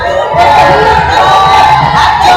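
A crowd at a beauty event cheers, whoops and shouts in a loud, sustained roar of many voices, with excited shrieks rising above the din throughout.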